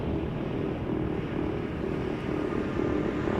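Airplane departing Schiphol Airport during parallel departures, a steady broadband jet roar holding constant and fairly loud throughout, with no voices over it.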